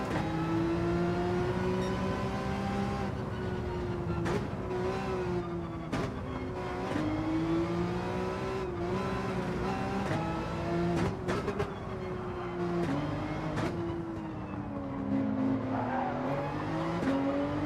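A Porsche race car in Gran Turismo 7 drones steadily with a strong engine note through shifting revs, its acceleration sounding short of power, punctuated by brief clicks and gear changes, loud and continuous.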